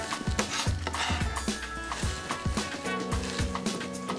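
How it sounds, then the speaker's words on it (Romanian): A smoked salmon and avocado salad being gently mixed in a bowl, with close, repeated clinks and scrapes of utensils against the dish in an uneven stirring rhythm. "Amestecăm ușor."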